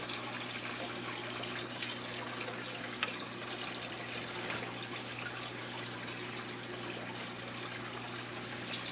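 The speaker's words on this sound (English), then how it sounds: "now we're going to pour it in the tank" Water with thawed frozen bloodworms poured into a discus aquarium tank makes a steady, close splashing gush that runs unbroken over a constant low hum.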